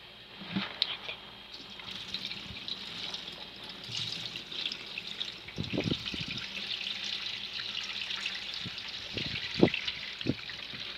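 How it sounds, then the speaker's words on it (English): Water runs steadily from a tap into a wash pan with two holes, with a continuous hiss and occasional splashes and knocks of the pan nearby. "So now I am going to empty this and fill this with clear water."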